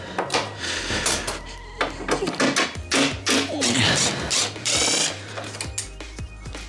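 Rapid clicking of a ratchet loosening fasteners on an Audi TT project car's window fitting, bursts of close metallic ticks with occasional knocks and clunks, and brief talk in the background.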